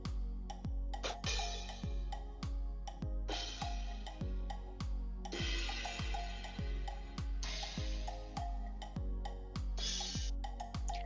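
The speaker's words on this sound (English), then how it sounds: "That was the sound of a pair of cymbals." Cymbals crash repeatedly in long, shimmering bursts over a steady thumping beat, each splashy wash ringing out for a second or two.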